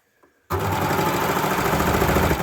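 A sewing machine set to a short stitch length runs through scrunchie fabric, starting abruptly after a brief quiet moment, then a loud, close, steady rapid mechanical whirring chatter with no talking.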